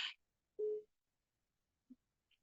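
Telephone ringing during a live call, short faint electronic tones separated by long silent gaps, quiet and distant.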